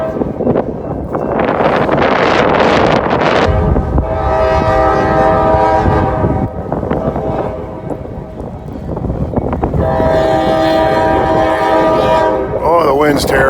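A passing freight train sounds its horn in long, loud blasts on a windy day, the chords sustained and repeated while wind buffets the microphone and the train rumbles by close.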